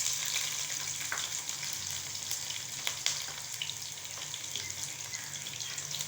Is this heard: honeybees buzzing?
no